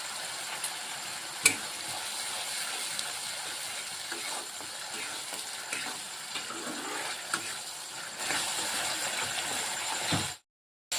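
Spice masala fries in a pan for a small-fish chorchori, giving a soft continuous sizzle with occasional stirring scrapes and one sharp clink, before cutting to silence.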